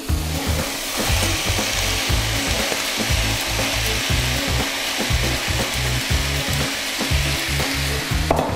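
Chicken fajitas fry in a pan with a loud, constant sizzle, close and alone, and a dense crackle runs steadily throughout.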